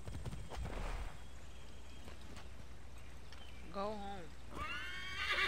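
A horse in the video game Assassin's Creed III clip-clops and then lets out a loud neigh, with a brief spoken line over the hooves.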